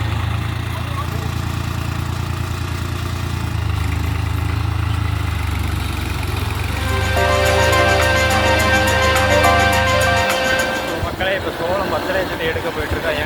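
A tractor engine idles steadily nearby during millet sowing, a continuous low rumble that holds throughout with a brief mechanical clatter near the end, while people talk over it.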